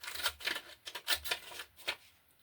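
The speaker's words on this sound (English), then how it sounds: "I have some fancy scissors. I will use these." Fancy decorative scissors snipping through paper in a quiet room, a series of short crisp cuts and rustles in an uneven rhythm, close and fairly soft, with no voices.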